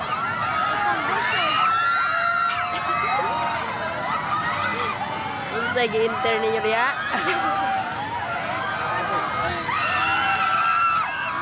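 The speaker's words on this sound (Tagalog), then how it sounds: "O diba ang ingay nila, talagang sigawan to the max, to the highest level." Riders on an amusement ride scream loudly and continuously over a bustling crowd at a Christmas fair at IBT Plaza in Divisoria, Zamboanga City, with shrieks rising and falling throughout and a voice briefly speaking nearby.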